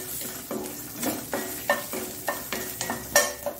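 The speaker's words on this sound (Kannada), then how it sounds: "ಇದರದ್ದು ಹಸಿ ವಾಸನೆ ಹೋಗುವವರೆಗೆ ನಾವು ಹುರಿಬೇಕು." Grated carrot and tamarind frying for a Mangalore-style carrot chutney, sizzling steadily while a utensil scrapes and knocks against the pan in a loose, repeated rhythm, close and alone without talk.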